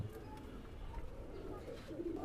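Pirojpuri teddy pigeons coo softly in a loft, low and muffled, with a faint murmur of background noise under the calls.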